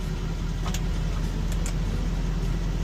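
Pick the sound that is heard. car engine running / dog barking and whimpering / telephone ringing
car engine running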